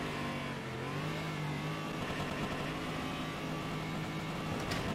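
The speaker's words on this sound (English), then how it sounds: "So the car sounds aren't very good" Racing car engine in the rFactor 2 sim game, revving and accelerating with a steady mid-pitched drone and rising tonal whine, continuous and moderately loud throughout with no talk.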